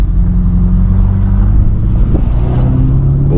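A 640-horsepower BMW M550i pulls hard on a late-night city drive, its exhaust a loud, continuous, close rumble that holds steady under full throttle.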